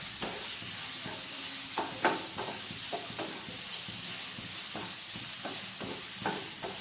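Tomatoes and tamarind fry in hot oil, giving a steady close sizzling hiss broken by scattered scraping stir strokes of a spatula in the pan.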